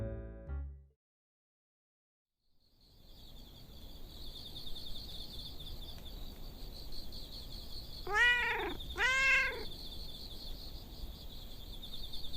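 A cat gives two short meows around the middle of the recording, close and fairly loud over a steady hum of insects or crickets, after a brief sound and a silent gap at the start.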